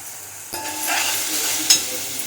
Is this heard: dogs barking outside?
no